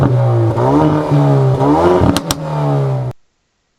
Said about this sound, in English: It pops and bangs from the factory.